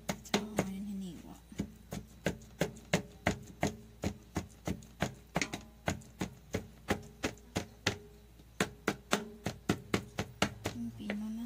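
Repeated knife chops through boiled banana heart on a cutting board for a torta, a steady rhythm of sharp close taps roughly two or three per second, with brief pauses and faint background sounds.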